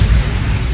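Bombarda blasting spell explosion from Hogwarts Legacy, a single brief loud deep boom with rumbling low end.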